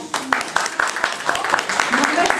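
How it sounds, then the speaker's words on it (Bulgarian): Children in a classroom applaud, with a rapid run of sharp claps spread across the whole moment at steady, fairly loud level, set against a busy room. "Браво на теб, аплодисменти."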